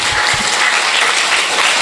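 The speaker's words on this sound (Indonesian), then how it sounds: "tepuk tangan untuk adik-adik yang telah tampil" Dense, steady applause fills the hall after a children's pantomime competition at an elementary school arts contest in Nganjuk, East Java, loud and continuous throughout.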